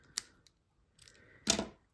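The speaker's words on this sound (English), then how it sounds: "My ribbon scissors." A few crisp snips of ribbon scissors cutting, with a quick sharp snip early on and a louder double cut near the end, close and otherwise quiet.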